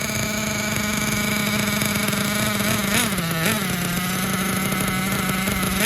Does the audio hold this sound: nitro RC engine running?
yes